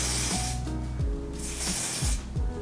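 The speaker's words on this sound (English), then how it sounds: "I'm gonna take this Wonder Lace Bond adhesive spray, the black one." Wonder Lace Bond black adhesive spray is sprayed onto a lace wig hairline in two loud, close hissing bursts with a brief pause between them.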